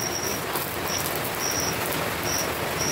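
Steady, dense hiss of heavy rain falling outside a home during a wet spell, continuous and fairly loud, with a faint repeating high chirp above it and no voices.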